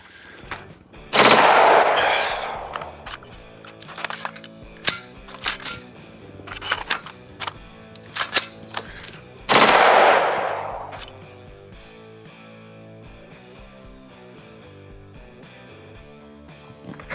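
Full-auto bursts from an AR-15 rifle with a nitride-treated barrel: two long, loud roaring strings of rapid fire, broken up by scattered single shots and short bursts. The shooting stops near the end and a quieter stretch follows.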